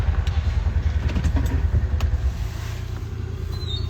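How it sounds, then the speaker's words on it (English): A water truck's engine rumbles steadily as it drives around close by, a continuous low droning throb with no talking. "he comes around with the water truck"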